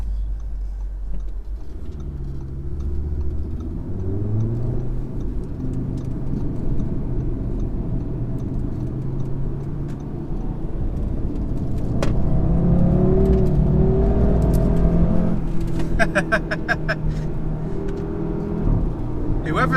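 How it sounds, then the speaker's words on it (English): A 2018 Audi RS3's engine revs hard while driving, its loud, rising drone climbing through the gears with repeated surges and a steady road roar underneath. "So this is an old school engine that loves to be revved."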